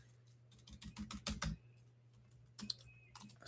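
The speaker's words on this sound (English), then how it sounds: "Sorry, I'm just typing something." Rapid bursts of clacking on a computer keyboard, close and quiet, with a flurry of keystrokes, a short pause, then another quick run of typing over a faint steady hum.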